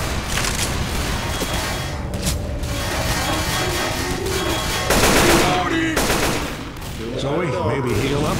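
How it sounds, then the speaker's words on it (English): Gunfire in the Left 4 Dead 2 co-op shooter: rapid, continuous automatic bursts and heavy shots rattle on without pause. Voices shout briefly over the shooting. "Watch where you're shooting!"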